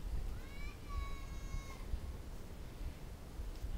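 A collared cat meows near an old pear tree outdoors where children are playing, a short rising call followed by a longer held one, fairly faint over steady background noise.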